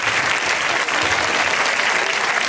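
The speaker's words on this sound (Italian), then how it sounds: "Un grande applauso." Audience applause at a public event in Pontedera, a large crowd clapping steadily and loudly for the full stretch, dense and continuous with no voices breaking through.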